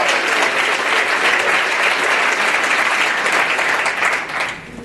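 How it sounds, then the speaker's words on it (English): A conference audience gives Philip and his team a round of applause, loud, dense clapping that fills the room steadily before tapering off at the end. "let's give Philip and his great team a round of applause"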